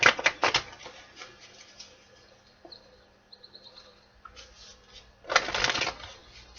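Tarot deck being shuffled by hand: quick riffling bursts of card flutter near the start and again near the end, with a quieter stretch of soft card handling in between, close and without voices.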